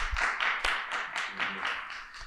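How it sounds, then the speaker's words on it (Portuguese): Studio audience gives a warm round of applause to welcome a guest on a podcast set, a steady wash of clapping at moderate level lasting a couple of seconds. "Recebam ele com uma salva de palmas, Fernando Noronha!"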